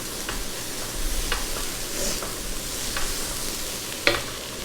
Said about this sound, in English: I'll saute a little bit of onion and then I'll put the beans with it